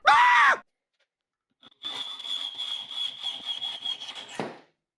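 A loud sharp burst, a pause, then a steady grinding cut through screws, removing their heads, with a high metallic whine lasting a few seconds before stopping abruptly.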